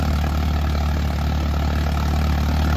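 Tractor engines, including a John Deere 5075E, strain against each other in a tractor tug-of-war, giving a loud, steady low drone that holds without pause.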